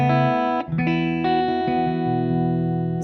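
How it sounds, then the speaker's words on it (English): Sustained chords from a Les Paul electric guitar through a Jackson Ampworks Newcastle amp ring out with a soft reverb tail, changing chord a few times over a steady, clean amplified tone; no voices. "I have a little reverb happening right now"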